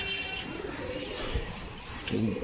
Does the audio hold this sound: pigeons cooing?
yes